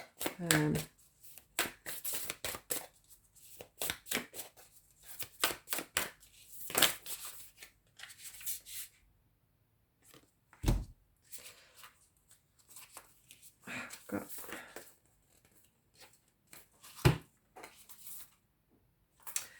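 Tarot cards being shuffled by hand in short bursts of riffling and flicking, with pauses between them and a few sharp taps, close and fairly quiet.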